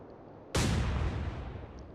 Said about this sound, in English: Firing again, getting a hit in the highly armored side of North